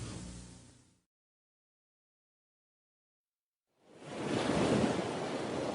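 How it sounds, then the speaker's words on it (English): Ocean waves breaking at a coastline make a broad rushing wash of surf that swells up after a stretch of silence and stays steady and moderately loud. "waves break at the coastlines, sometimes strong, sometimes weaker"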